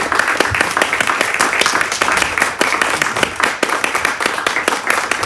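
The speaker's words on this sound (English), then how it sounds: "this round of applause is too low for such deep words shared here" A conference audience at a forum gives a round of applause for a speaker, a continuous even wash of many hands clapping, fairly loud, with distinct individual claps standing out.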